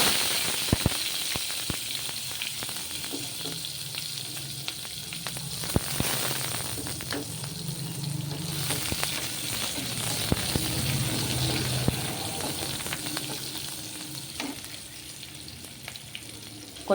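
Onions frying in a pan for rajma masala curry, a continuous soft sizzle with light stirring scrapes and occasional clicks, steady and fairly quiet throughout.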